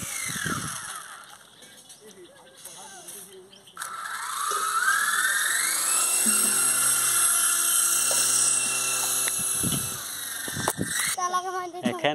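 A toy helicopter flies with a steady high-pitched whirring buzz, loud and close, rising in pitch as it lifts off and holding for several seconds before cutting out, with voices talking before and after.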